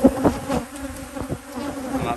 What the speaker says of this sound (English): So instead of like one bee, it was like 1 dozen bees.